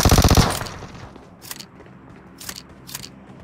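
Video game gunfire sounds as a loud rapid burst of automatic shots at the start, followed by three single sharp shots spaced out over a quiet background.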